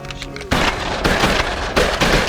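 Shotgun blasts ring out during a duck hunt for specklebelly geese and ducks, several loud, sharp reports in quick succession following a quieter lead-in, close and punchy with a rolling echo after each.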